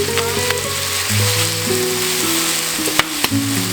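Chicken livers fry in a pan on a stove turned down near the end of cooking, giving a loud, continuous close sizzle and crackle with a few sharp pops, with no talking.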